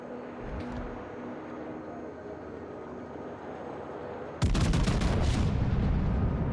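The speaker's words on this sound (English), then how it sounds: "Shells being a little slow at range does mean we might actually arc over this." Battleship main guns fire in the World of Warships naval video game aboard the Ohio, a sudden loud booming salvo erupting after several seconds of low ambient hum and sustaining with rumbling reverberation.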